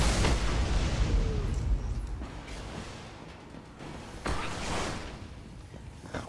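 Booming shotgun blasts in a video game, heavy and loud, with a couple of strong reports spaced a few seconds apart over rumbling game noise.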